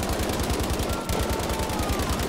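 STG 44 rifle firing in Battlefield 5, a rapid sustained burst of close, loud automatic shots at a steady rhythm, with a brief break near the middle before the firing resumes.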